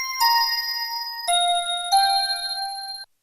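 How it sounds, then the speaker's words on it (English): A synthesized bell patch on a Roland MC-101 groovebox rings out three clear, bright tones in turn, each sustaining with shimmering overtones before the next note, ending abruptly. "So I have this little bell."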